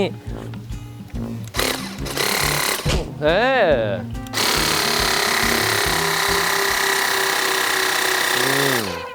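A floor cleaning machine switched to its high power setting runs with a loud, steady mechanical whir that sustains without a break after some brief talk and clattering at the start.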